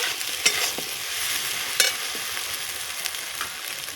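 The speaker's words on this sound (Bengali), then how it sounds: "সামান্য নুন এইটাকে ভালো করে মিলিয়ে নেব" A spoon stirs salt into a sizzling pan of fig and taro stolon mixture with mustard, scraping sounds recurring in irregular strokes over a constant frying hiss, with no voices.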